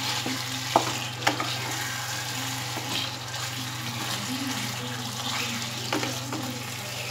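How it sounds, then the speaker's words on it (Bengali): Ghee and garam masala stirred into a jackfruit curry in a pan, a steady low sizzle with a few soft spoon clicks and scrapes scattered through, close and even, with no talking. "এইবার ঘি আর গরম মশলা আমি ভালোভাবে মিশিয়ে নেব।"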